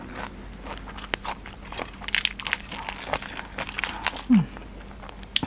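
Crispy pork knuckle skin bitten and crunched, with several sharp crackling bites spread across a close, fairly quiet meal alongside a spicy apple snail salad.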